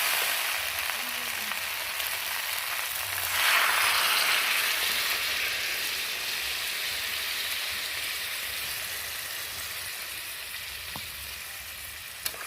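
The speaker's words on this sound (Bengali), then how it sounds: "এখন আমি পরিমাণ মতো জল দিয়ে দেবো" Water poured into a pan of sizzling fish-head masala sets off a loud, hissing surge of frying that gradually settles into a steady, even sizzle, close by and without talk.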